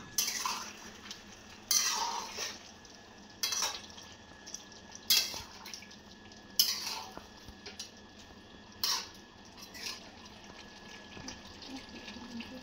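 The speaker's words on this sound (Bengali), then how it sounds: "কিছুক্ষণ পর কড়াইয়ের ঢাকনাটা সরিয়ে ভাজা চিংড়ি মাছগুলোকে এর মধ্যে অ্যাড করে দিতে হবে।" Fried prawns go into a covered kadai after its lid is lifted in a home kitchen, heard as a series of sharp metallic clatters and clinks spaced every couple of seconds over a faint background hiss, with no talking.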